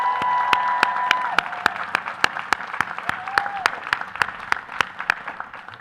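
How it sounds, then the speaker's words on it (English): Graduating crowd at a law school commencement applauds in a steady wash, punctuated by loud, evenly spaced sharp claps from someone close by, with a voice heard faintly in the mix. "one more round of applause for her"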